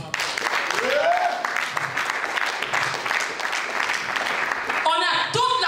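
A church congregation applauds and cheers in praise of God, a dense, steady wash of clapping and crowd noise running throughout, with a voice rising over it early on and singing or shouting near the end.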